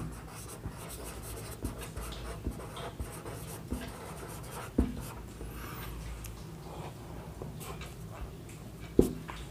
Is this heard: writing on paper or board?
yes